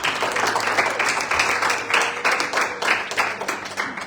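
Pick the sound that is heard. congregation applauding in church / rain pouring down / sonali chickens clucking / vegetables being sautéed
congregation applauding in church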